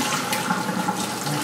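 Brown rice being rinsed in normal-temperature water and drained, a steady close splashing and pouring wash of water running continuously throughout.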